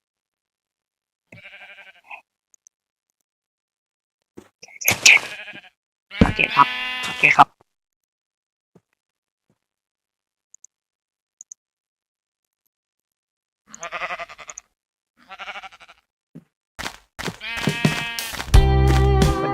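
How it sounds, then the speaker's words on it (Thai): Sheep bleat in Minecraft version 1.8.1, coming in a few short scattered bursts with long silent gaps between them, and someone talks briefly in between. "แกะแกะแกะ"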